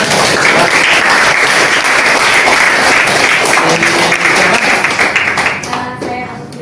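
A room full of people at a lecturer certification session breaks into continuous loud applause, steady throughout before tapering off in the final second.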